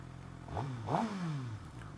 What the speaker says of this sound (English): this thing's got a titanium exhaust as standard, and that end can sounds fantastic